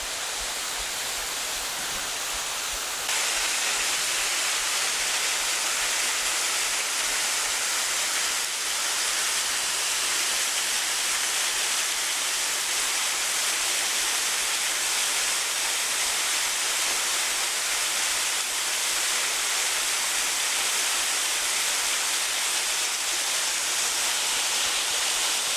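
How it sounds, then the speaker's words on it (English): Waterfall at Hanging Rock State Park in North Carolina, a steady broadband rushing roar of falling water that holds constant and fairly loud throughout with no talking. "Another view of the waterfall."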